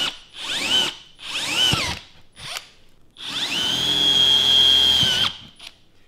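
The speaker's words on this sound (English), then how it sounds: "We'll be using a 7/32 drill bit to drill these out." A power drill with a 7/32 bit whirs in several short bursts, then runs in one long, steady high-pitched spin before stopping, close and loud.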